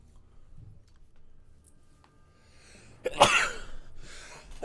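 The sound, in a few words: sneeze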